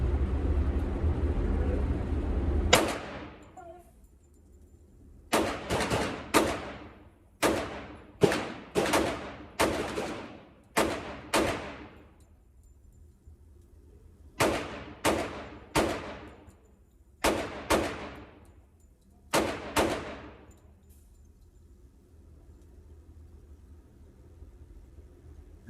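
Rifle fitted with a Grizzly Gunworks Mini Ghost compensator muzzle brake, fired outdoors in a string of about fourteen loud, sharp shots, some in quick pairs and some spaced a second or more apart, each with a brief echoing tail.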